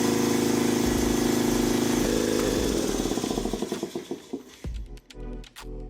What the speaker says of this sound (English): I'm gonna cut this on, just listen to it for a minute.